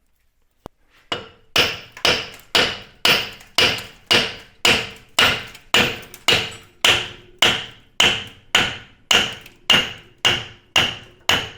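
Steady hammer blows drive the pinion out of a Chevy Silverado rear axle, about twenty loud metallic strikes in an even rhythm after a single spoken word.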